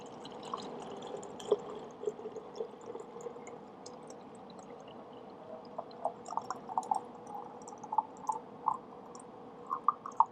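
Water running into a bottle being filled to the 500 mark for an agarose gel electrophoresis tank, a steady trickle with small drips and clinks that grow more frequent toward the end, heard alone without talk.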